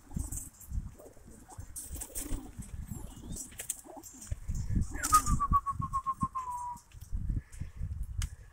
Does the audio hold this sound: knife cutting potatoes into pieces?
no